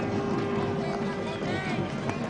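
A large cricket stadium crowd at an India versus South Africa one-day international groans and murmurs in disappointment, a dense, sustained roar of many voices filling the background while a commentator speaks over it.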